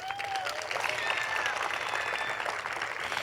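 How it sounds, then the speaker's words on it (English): A round of applause from the crowd at a high school groundbreaking ceremony, fairly faint and distant, continuous clapping with a few faint whistles over it. "give yourselves a round of applause for making this happen"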